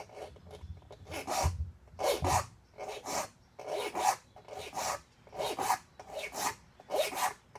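A hand file rasps across the teeth of a rip saw in steady, evenly spaced strokes, about ten in a row, close and clear with no talk.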